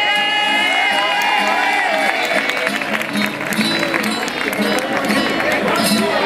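A crowd at a murga (Carnival street-theatre choir) performance in San Pedro Alcántara claps and cheers steadily throughout, with whoops and loud chatter mixed into a dense, continuous wall of applause.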